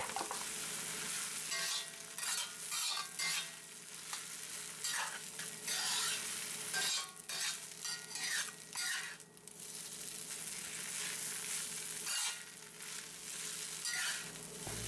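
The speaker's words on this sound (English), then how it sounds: "we mix in our eggs and stir it all around to cook the eggs" Ramen noodles and eggs stir-fried in a pan give a steady, close sizzle, with frequent scraping and stirring strokes and occasional clinks against the pan, and no voices.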